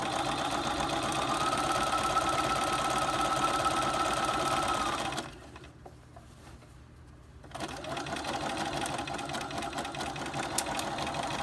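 A sewing machine stitches fabric casing with a fast steady mechanical whir, close and clear, pausing for about two seconds of near-silence before running again more briefly.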